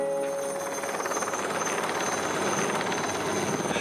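A helicopter flies to a high-mountain construction site in the Alps beside the old Monte Rosa hut, its rotor chop a loud, steady throb that fills the whole stretch.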